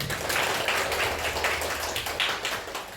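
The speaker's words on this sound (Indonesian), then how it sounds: "tepuk tangan untuk kalian yang dapat nilai 100" Students in a classroom applaud classmates who scored top marks, giving a short burst of dense, close hand clapping at a moderate level.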